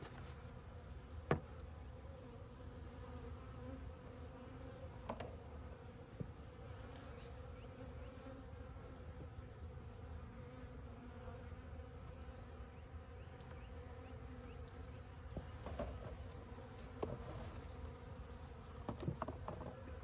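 Honey bee swarm buzzing around a hive during a swarm capture, a faint steady drone with a few scattered knocks and clicks from nearby handling, no speech.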